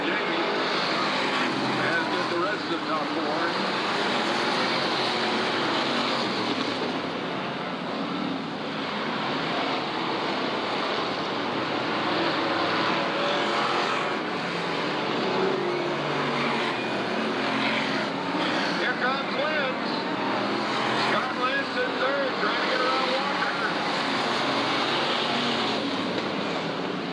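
Race cars roar around the track at Southern Oregon Speedway, their engines forming a loud, continuous, unbroken drone with swelling passes and a voice at times above it.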